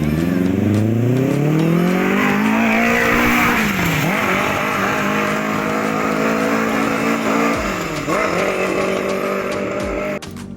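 A Polaris RZR fitted with a swapped Honda CBR 1000 engine revs hard and close, pitch sweeping up, dropping and climbing again in loud sustained high-rpm bursts before cutting off near the end; no talking.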